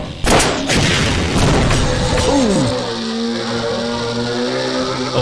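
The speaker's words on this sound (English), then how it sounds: "Oh, he threw a grenade." A grenade explosion in Half-Life: Opposing Force gives a loud, sharp boom followed by a long rumbling roar that carries on steadily, with faint tonal game sounds sliding in near the end.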